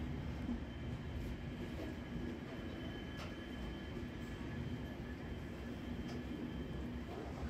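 Train pulling into a station platform in Bikaner on a line being electrified: a steady, continuous rumble of rolling wagons and wheels, fairly distant and even in loudness throughout, with no voices.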